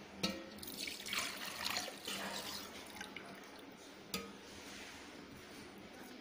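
Milk poured into a jar for a chocolate milkshake, a close, splashing liquid stream that is loudest over the first two seconds and then settles into a softer trickle, with a sharp knock near four seconds.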